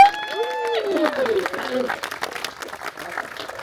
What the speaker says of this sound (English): Oh, give him a clap.